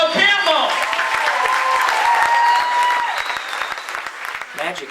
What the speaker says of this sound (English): how about a big round of applause for Joe Campbell?